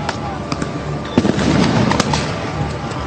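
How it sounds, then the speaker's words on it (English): Flashbang grenades bang repeatedly amid drifting tear gas and smoke at a street confrontation, sharp pops scattered through a dense noisy crowd din, with people talking throughout. "A lot of flashbangs, a lot of smoke."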